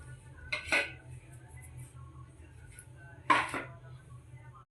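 Marinated chicken pieces being mixed by hand with flour and cornflour in a metal bowl, giving two short clattering, scraping bursts of utensil and pot contact over a quiet background hum, with no talking.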